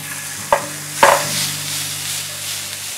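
Chopped chipotle chili and halved cherry tomatoes sauté in a pan with golden garlic, a soft continuous sizzle broken by two sharp utensil knocks near the start, close and without speech.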